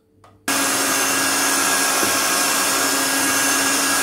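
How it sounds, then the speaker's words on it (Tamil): Electric hand beater whipping sponge cake batter, switching on after a short quiet moment and then running at a loud, steady whine. "இப்போ இதோட இன்னும் 1 மினிட் வந்து பீட் பண்ணிக்கலாம்."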